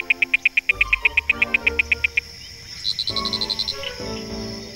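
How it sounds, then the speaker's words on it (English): Frogs calling at night during summer: a fast, evenly pulsed trill repeats loudly up close, then a higher, shorter pulsed burst follows, over a low layered chorus of croaks. "There were frogs, all right, thousands of them."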